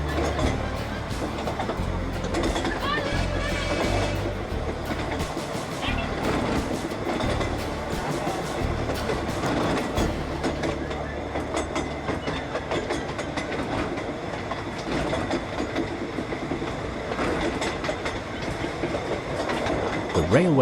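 The Longleat Railway train runs along the lakeside route with continuous wheel clatter and rumble, heard steadily and fairly close throughout the ride.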